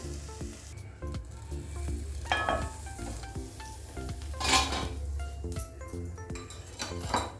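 Oats chilla roasting in a covered pan over low gas, a soft continuous sizzle with occasional clinks of a lid and utensils, close and fairly quiet.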